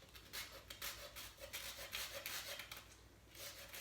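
A lemon zested on a grater for a Greek chicken dish with tzatziki, heard as faint, quick rhythmic scraping strokes with no voices.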